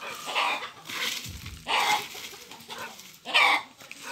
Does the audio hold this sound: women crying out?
no